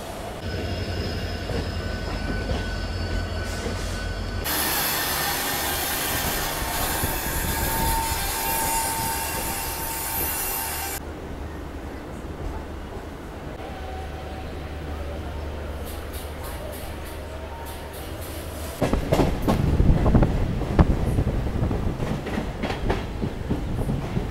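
A Howrah–Digha local train rumbles steadily along the rails, loud and close, its wheels squealing at times, with a clattering surge of rail noise near the end.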